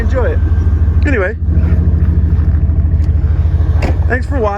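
A Chevy 2500HD plow truck's 8.1 Vortec big-block engine runs loud and steady with a deep throbbing idle. Someone talks over it throughout.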